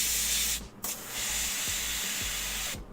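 A spray can hisses in steady close bursts as paint goes onto a model figure, with a brief pause near the start and the spray cutting off at the end.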